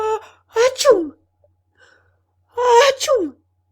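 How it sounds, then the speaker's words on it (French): An audiobook narrator acts out a sneeze with his voice, giving two theatrical gasping 'ah-choo' bursts separated by a short quiet pause. "Et il éternua encore 2 fois."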